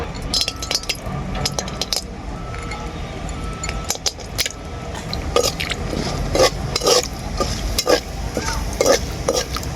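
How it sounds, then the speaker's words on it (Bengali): Cashews and raisins fry in a pan, with sharp clinks and scrapes of stirring over a soft sizzle, growing busier and louder toward the end, and no speech. "এরপর কাজু আর কিশমিশ ভেজে নেবো"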